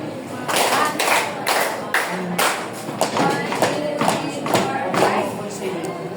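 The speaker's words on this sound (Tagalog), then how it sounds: "5 palakpak, 5 padyak" A class of young Grade 2 children claps and stomps in unison, about five sharp broadband claps in a steady rhythm, each with a low thump, recorded close with voices and chatter around them.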